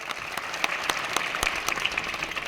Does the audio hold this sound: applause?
yes